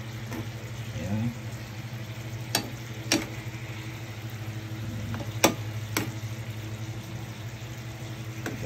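Sauce cooking down to oil in a frying pan, a soft continuous sizzle with a few sharp utensil clinks against the pan and a low steady hum beneath.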